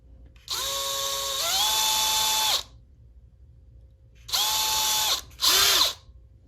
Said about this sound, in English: Your goal is just to drill out that plastic a little bit.